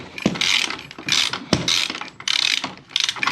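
A hand ratchet clicks in repeated bursts while loosening 21mm nuts on the rear wheel of a KOMOTO X1500 electric snow scooter, close and crisp with short pauses between strokes.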